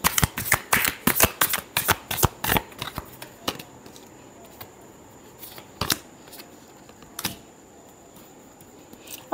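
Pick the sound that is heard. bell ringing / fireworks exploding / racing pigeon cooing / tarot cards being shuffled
tarot cards being shuffled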